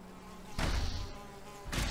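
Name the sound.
mosquito buzzing in Valheim video game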